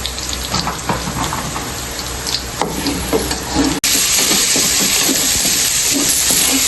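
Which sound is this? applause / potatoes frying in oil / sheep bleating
potatoes frying in oil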